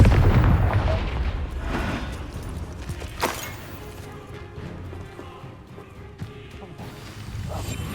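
Confringo, a fiery blasting spell in Hogwarts Legacy, detonates with a loud, deep boom that rolls on into rumbling debris and scattered crashes, while a voice briefly calls out nearby.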